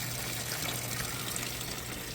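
Water steadily pouring back into an aquaponics grow bed from a 60-gallon system after draining to the sump outdoors at night, a continuous close gush and trickle throughout.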